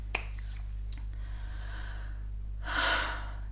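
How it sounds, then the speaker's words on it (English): A person takes a single audible breath, a soft breathy gasp rising near the end over a steady low hum, with a faint click early on and no talk. "Just breathing."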